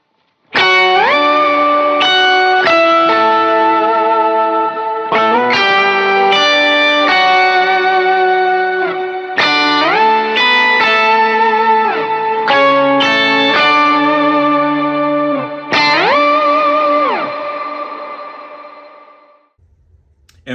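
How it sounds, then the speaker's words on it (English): An electric guitar played through an Octaver pedal and a small reverb rings out sustained notes and chords one after another, each with a thick doubled low octave and a gentle reverb tail, fading out at the end. "So here's my Octaver, and I'll also be using a small reverb."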